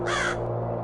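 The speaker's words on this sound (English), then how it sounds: "He gave a short, angry croak the moment he saw me." A raven gives one short, harsh croak, close and clear, over a low steady hum.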